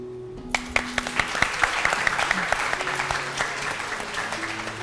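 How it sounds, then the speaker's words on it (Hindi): Studio audience at a morning show launch clapping, a run of crisp individual claps that quickly thickens into steady applause, close and moderately loud, then eases slightly toward the end. "बस इतनी तालियां, मतलब खुल के नहीं बजेंगी।"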